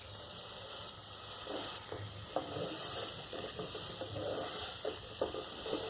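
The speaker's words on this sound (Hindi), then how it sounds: "थोड़े से आलू आपको फ्राई करने पड़ेंगे। आलू फ्राई हो गए हैं।" Potatoes fry in a hot pan with spices, giving a steady close sizzle and hiss with scattered clinks and scrapes of stirring throughout, and no voices.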